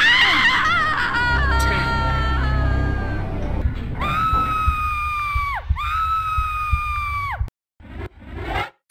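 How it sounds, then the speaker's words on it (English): Lara Croft from Tomb Raider I Remastered, in the Atlantis level, gives two long, loud falling screams back to back, each one sliding in pitch. Before them come a jumble of game voices and laughter-like sounds. "make Lara scream twice whilst falling"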